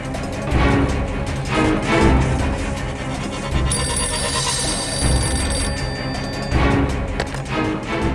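A telephone rings repeatedly after a number is dialed, the trilling bell coming in steady bursts over a dense, loud background with no talk.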